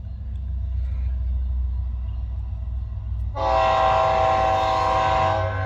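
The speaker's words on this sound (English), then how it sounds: "Oh, there's a train coming." A low rumble builds, then a loud, sustained train horn blares close by over the rolling rumble of an approaching train.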